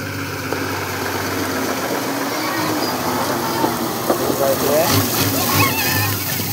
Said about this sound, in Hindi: आम गाँ रो छुआ माने सब देख पानी टैंकर को दौड़ौछंती